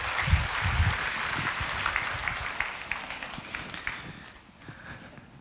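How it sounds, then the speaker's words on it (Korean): A church congregation at a Korean Sunday worship service claps warmly to welcome a guest, Sister Park Eun-ji. The applause is dense and steady, then gradually thins and fades toward the end. "여러분 뜨거운 박수로 맞아주시기 바랍니다."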